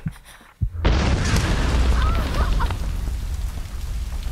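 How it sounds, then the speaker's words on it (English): A grenade blast in the Tomb Raider video game: after brief quiet and a small click, a loud booming explosion bursts out and rumbles away slowly over several seconds. "I legit shot him with a grenade."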